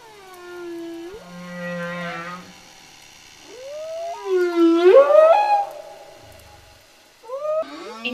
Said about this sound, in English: the beautiful whale symphony is a unique set of sounds